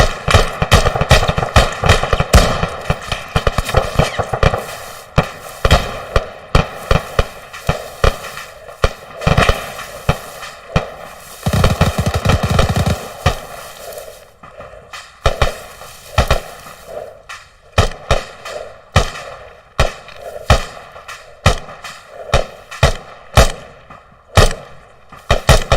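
Loud machine gun fire in the Arma 3 military shooter, rapid bursts of automatic shots, sometimes long and sustained, sometimes short clusters, close and dominant throughout.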